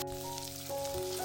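Dried red chillies sizzle and fry in hot oil with cumin and curry leaves, a steady close crackling hiss with no talk.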